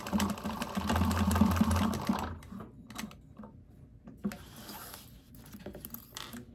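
A sewing machine back stitching a seam on a fabric Aurora bag: a close, fast mechanical whirr for about two seconds, then stops, followed by quieter handling clicks and rustles.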